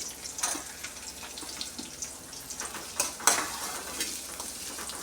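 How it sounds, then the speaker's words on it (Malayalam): Chopped shallots fry in oil for a Kerala-style egg curry, a steady close sizzle and crackle with a few louder stirring scrapes against the pan; nobody speaks. "ഉള്ളി നല്ല ലൈറ്റ് ബ്രൗൺ ആവുന്നത് വരെ വഴറ്റണം"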